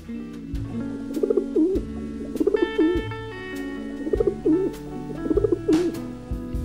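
A pigeon coos in a repeated, rhythmic pattern, one call after another, set over steady background music with no voices.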